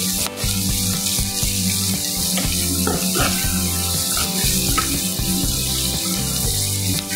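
Onions sizzle while frying in a pan, a steady, even hiss that continues unbroken at close range with no talking over it.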